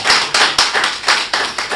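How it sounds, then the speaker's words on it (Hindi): At a Hindi kavi sammelan poetry gathering, the crowd claps in brisk, loud bursts, roughly four crisp swells of clapping per second in a fairly even rhythm, with no voices. "तालियां बजाइए।"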